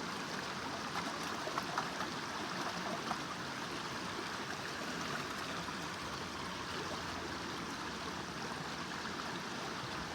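A miner's moss mat being rinsed in a bucket of water gives a steady sloshing, trickling wash, continuous and close for the whole stretch.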